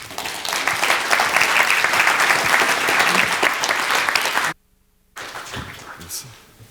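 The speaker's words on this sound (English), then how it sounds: "Round of applause for the two Davids." Loud audience applause for two presenters at a conference session on digital learning, a dense sustained wash of clapping that cuts off abruptly, followed after a short gap by quieter room sound.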